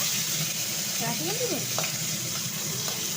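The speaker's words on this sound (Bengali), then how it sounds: "এখানে দেখো আমি চিংড়ি মাছগুলোকে একবারে ফোড়নের সঙ্গে ভেজে নিচ্ছি, একসাথে ভেজে নিচ্ছি" Shrimp fry with spices in a hot pan, a steady loud sizzle throughout, with faint stirring scrapes and a few small pops near the middle.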